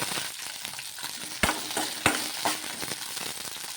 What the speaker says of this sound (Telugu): ఇందులోకి కొంచెం మన కారానికి తగ్గట్టు పచ్చిమిర్చి కూడా వేసేసుకోవాలి